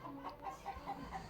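Chickens clucking in short, repeated calls through a steady background hum, fairly close by, with no talking.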